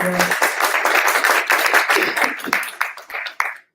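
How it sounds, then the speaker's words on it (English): An audience claps for a company founder in a burst of applause that swells, holds, and then thins out to a few last claps. "please do give a round of applause to Madenge"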